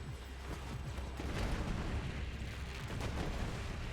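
Launcher explosions in a video game, heavy booming blasts that rumble one after another over four seconds, steady and dense with no clear pauses.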